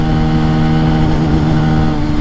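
A Benelli TNT 135 or Honda Grom 125 small-displacement motorcycle engine revs steadily and close on a backcountry road, a sustained buzzing drone with strong tonal harmonics and no voices.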